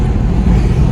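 Heavy road traffic in Chennai after monsoon rain: a loud, steady low rumble of engines and tires filling the whole moment, with no clear individual vehicle standing out.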